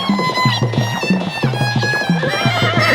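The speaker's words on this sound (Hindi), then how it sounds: "उस तरफ से तो एक जिंदा घोड़ा आ रहा है।" Horse neighing and whinnying repeatedly with harmonic calls over a steady rhythmic clip-clop of hooves, close and loud as the animal approaches, with no talk.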